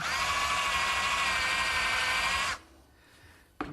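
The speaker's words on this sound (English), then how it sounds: "First I'm going to drill a hole through the brass." A power drill boring through brass whines steadily at high speed for a couple of seconds, then cuts off, leaving quiet room tone and a brief final clunk.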